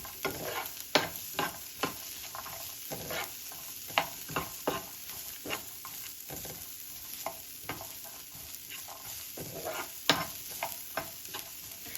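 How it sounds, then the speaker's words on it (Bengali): Onions sizzle steadily in a pan while a utensil stirs them, leaving sharp scraping clicks at an irregular rhythm over a soft, continuous frying hiss, with no voices. "এইবারে এটাকে আমরা একটু নাড়িয়ে নেব পেঁয়াজটাকে একদম লাল করে ভাজতে হবে না"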